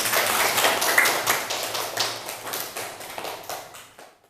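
Classroom of students clapping together, a dense close burst of applause that holds steady, then gradually tapers off and fades to silence.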